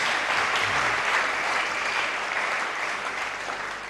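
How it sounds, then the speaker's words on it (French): A church congregation breaks into sustained applause and acclamations at a Sunday edification service, a dense, steady wash of clapping filling the whole stretch without pause. "Manifestez-les par les acclamations."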